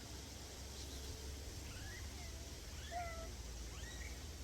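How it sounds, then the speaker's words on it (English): A pet cat in a home kitchen in Jamaica meows faintly several times, with short rising and falling calls scattered over a steady low background hiss. "my kitty cat"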